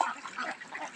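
A large flock of about 270 year-old ducks on a family duck farm in the morning, giving a dense, continuous chorus of overlapping quacks and chatter, close and fairly loud throughout the short stretch.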